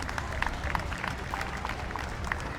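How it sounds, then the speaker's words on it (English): A crowd at an outdoor DogFest charity event in Jacksonville claps for sponsors, light scattered applause sitting under steady background noise, moderately distant and fairly faint. "Give them a round of applause, please"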